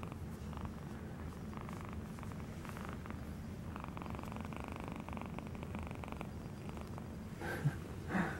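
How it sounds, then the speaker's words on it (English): A cat purrs softly up close, a quiet continuous rumbling pulse that runs steadily throughout, with a couple of faint brief bumps near the end and no talking. "Hear her purring?"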